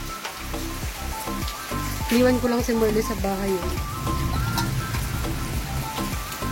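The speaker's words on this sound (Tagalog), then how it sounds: "malakas yung ulan" Rain patters and hisses steadily on a surface nearby while a person speaks over it.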